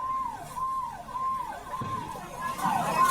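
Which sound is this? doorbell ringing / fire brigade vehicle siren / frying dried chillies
fire brigade vehicle siren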